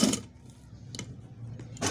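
A sewing machine stitches gathers on a girl's designer frock, giving short mechanical bursts and clicks at close range with brief pauses between runs and no talking.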